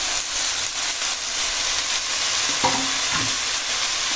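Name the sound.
chopped greens frying in onion-garlic tempering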